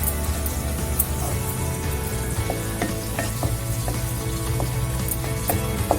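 A sorrel leaf and chana dal curry is stirred in a pan with chilli powder, giving steady sizzling and frying with scattered spoon scrapes and clinks throughout, without speech.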